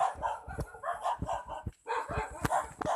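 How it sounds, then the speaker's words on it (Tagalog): Several dogs bark repeatedly and overlap, fairly close on a mountain climb, in short choppy bursts with a brief pause midway. "Daming aso."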